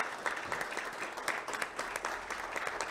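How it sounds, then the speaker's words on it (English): A church congregation applauds to welcome new members, a steady wash of many hands clapping at moderate level, filling the room without voices. "the rest of us are just going to welcome them with a round of applause"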